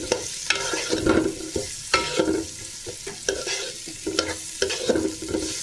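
Onions frying for biryani are stirred in a pan, with close, repeated scraping strokes over a constant sizzle and no speech.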